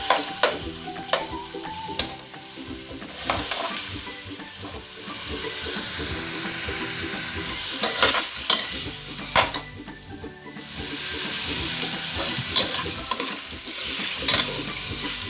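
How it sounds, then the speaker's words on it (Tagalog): Shrimp and tofu sautéing in olive oil in a pan, a steady sizzle with frequent scraping stir strokes and occasional clinks of a utensil against cookware, close and fairly loud throughout. "Sautay lang siya natin."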